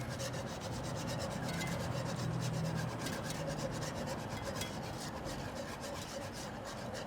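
Gravy for enchiladas with grilled pheasant being whisked constantly in a pan, making a steady, close scraping and rubbing sound of rapid strokes against the pan with no pauses.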